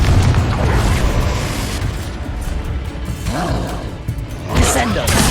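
A Confringo blasting spell goes off in the Hogwarts Legacy video game: a loud rumbling explosion fades, then more crackling magical bursts and a final sharp blast hit during a chaotic duel.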